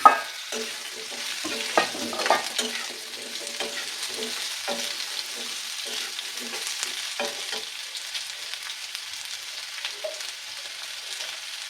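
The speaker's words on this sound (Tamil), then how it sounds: "இப்போ இதில் கட் பண்ணி வச்சு அந்த காயை போட்டுக்கலாம்" Cut yellow pumpkin pieces sauté in a pan after lentils have turned golden, with a close oily sizzle and a run of spoon scrapes and stirs that thin out toward the end, no one talking.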